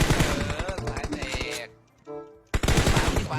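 Rapid automatic gunfire in a shooter video game, dense bursts that stop for about a second, then resume loud and close.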